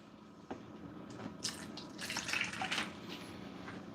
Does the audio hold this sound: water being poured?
yes